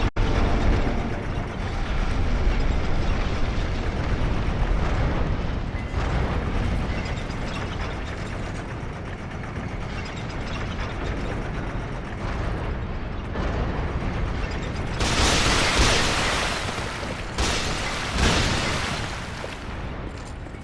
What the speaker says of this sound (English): So let's take this elevator up, see where that goes.